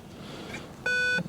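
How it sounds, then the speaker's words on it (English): A single clear electronic beep, short and bright, from a 1980s pullout Alpine car radio with Bluetooth in a Mercedes 500SL AMG, rings out over a quiet background hum. "then the radio does start beeping"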